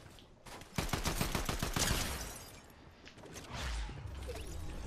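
Sniper rifle fire in a ranked online shooter video game, heard as a loud cluster of sharp cracking shots in quick succession, followed by a further burst of gunfire.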